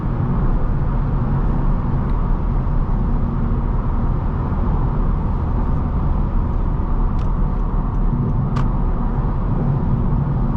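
A 2025 Honda Civic Hatchback accelerates hard on the road. There is a loud, steady engine drone with heavy road and cabin rumble, continuous and close.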